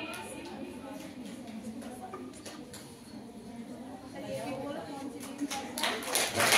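Scattered hand clapping at an Ayurveda Day quiz competition trophy presentation for the winners, uneven and irregular, with chatter and room noise around it and a louder burst near the end.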